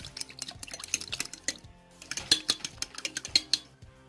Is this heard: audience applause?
no